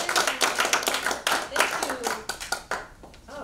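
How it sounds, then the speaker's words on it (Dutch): An audience applauds a speaker: a burst of uneven clapping swells and fades in waves, with a voice speaking briefly over it near the end. "Mag ik dan alsjeblieft een heel hard applaus voor deze dame?"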